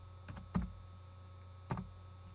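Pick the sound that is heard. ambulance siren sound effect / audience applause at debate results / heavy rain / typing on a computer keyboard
typing on a computer keyboard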